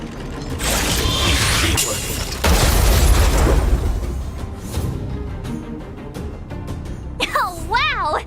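A rumbling explosion from a stealth automaton bomb in Honkai Star Rail, with a low boom swelling mid-clip amid mechanical clanks and game effects, followed by warbling tones near the end.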